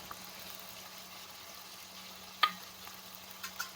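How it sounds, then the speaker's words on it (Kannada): Faint, steady sizzle of vegetables such as peas, capsicum and peeled tomato frying in oil in a pan for vangibath, with a couple of soft clinks from stirring. "ಇದನ್ನ ಚೆನ್ನಾಗಿ ಬೇಯಿಸ್ಕೊಳ್ಳಿ, ಫ್ರೈ ಮಾಡ್ಕೊಳ್ಳಿ"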